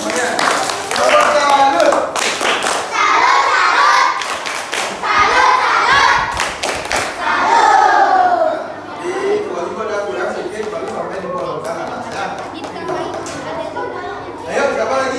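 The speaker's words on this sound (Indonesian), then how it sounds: "Ya, dah, tepuk tangan buat semuanya semuanya" A classroom of children claps for everyone, with bursts of hand claps and thumps mixed with lively child chatter and a teacher's voice throughout.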